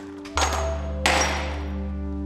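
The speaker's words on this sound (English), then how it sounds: "We break the glass up with a hammer" A hammer breaks up cold glass for mold filling, striking twice in close succession. Each loud impact rings with a bright shattering crunch over a constant low electrical hum.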